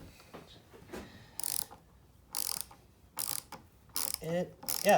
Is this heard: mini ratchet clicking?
yes